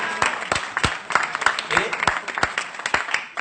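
A church congregation applauds the Lord during a sermon, brisk irregular clapping from a small crowd, fairly close and sustained for the whole moment.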